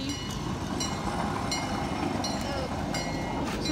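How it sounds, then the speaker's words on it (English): A train rumbles past steadily at close range, giving a continuous loud roar with faint rhythmic clicking throughout. "The train, Fendi."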